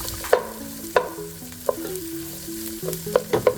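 Bacon and onion sizzle in a frying pan under a soft steady crackle, broken by several sharp spatula taps and scrapes against the pan. No one speaks.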